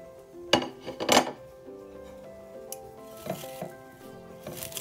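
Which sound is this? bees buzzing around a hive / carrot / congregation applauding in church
carrot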